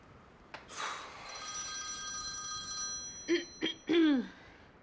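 A mobile phone rings from inside a coat pocket, muffled tonal rings repeating, followed by a few short chirping bursts near the end.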